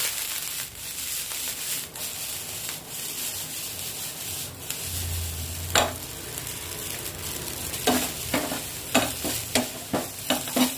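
Vegetable fried rice with chopped spring onion being stirred and tossed in a pan, a steady scraping, rubbing texture with faint sizzling and a run of sharp clanks toward the end.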